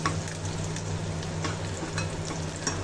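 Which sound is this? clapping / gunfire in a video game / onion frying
onion frying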